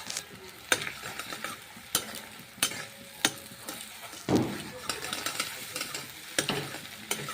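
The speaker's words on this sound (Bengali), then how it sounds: "কড়াইতে অল্প পরিমাণে তেল দিয়ে ডিমটা ভালো করে ভেজে নেব" Egg sizzles steadily in a little oil while a spatula scrapes and stirs it into small scrambled bits against the wok in repeated sharp strokes.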